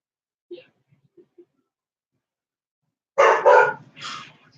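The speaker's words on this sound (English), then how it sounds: "every time I stream, this dog has to go berserk" A dog barks in a short burst of three loud, close barks after a few faint sounds, set against quiet indoor surroundings with no talking.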